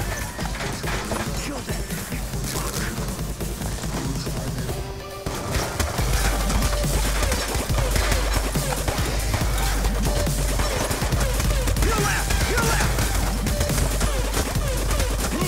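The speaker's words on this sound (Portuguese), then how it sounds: "Os caras abriram fogo mesmo" Enemy gunfire in the video game Call of Duty: Black Ops 2, a dense, continuous clatter of shots and impacts that grows louder and busier partway through, with a player's voice talking over it.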